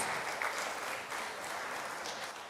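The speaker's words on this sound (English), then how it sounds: "Please give a round of applause." An audience at an academic society conference applauds a professor, a steady, moderately quiet clapping that fills the room throughout with no speech over it.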